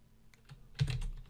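Login credentials typed on a computer keyboard, a short run of faint key taps ending in a slightly louder cluster of clicks, close and alone.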